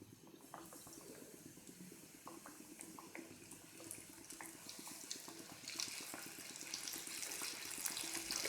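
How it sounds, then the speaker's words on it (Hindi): Small flour-coated chicken pieces for a dynamite chicken burger are dropped into hot oil, and a faint bubbling crackle swells gradually louder over several seconds, with no speech. "अब ऑयल गर्म हो गया, इसके अंदर मैं अलहदा अलहदा करके ये छोटे छोटे चिकन के जो पीसेस है वो डाल देती हूँ"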